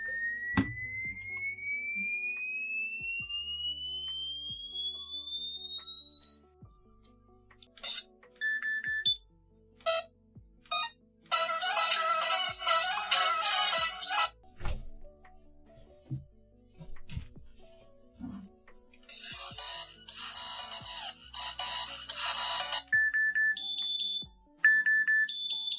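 A loud electronic alarm clock cycles through odd patterns: a rising sweep, bursts of rapid buzzing chirps, and repeated high beeps, with short gaps between.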